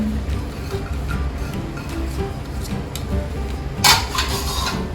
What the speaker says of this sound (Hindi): इसको अंदर मिक्स कर देंगे और इसके साथ ये बादाम डाल देंगे